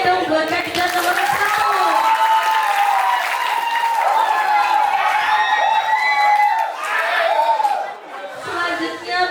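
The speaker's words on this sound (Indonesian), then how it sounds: "Sekali lagi mau tepuk tangannya dong buat kandidat nomor 1." An audience at a school student council candidate debate claps and cheers loudly for several seconds, a dense wash of applause with excited voices and shouts mixed in.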